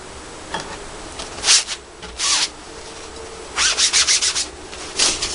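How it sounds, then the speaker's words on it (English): A metal file is drawn across a knife blade in short rasping strokes, first a few separate passes, then a quick run of five or six strokes, close and clear over faint room hiss. "we'll run the file across here a couple more times"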